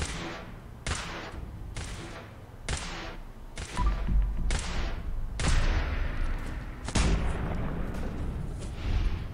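Gunfire in Fallout 4, a slow series of about eight heavy, booming shots spaced roughly a second apart, each with a sharp crack and a decaying rumble, loud and alone without talk.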